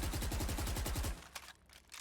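A Valorant player sprays automatic gunfire in a tournament match, a rapid, steady burst of loud shots lasting about a second before it stops and leaves faint scattered game sounds.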